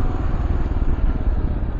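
A 2022-or-newer Kawasaki KLR650 dual-sport motorcycle engine runs steadily and loudly up close, a continuous low throbbing rumble with no talk over it.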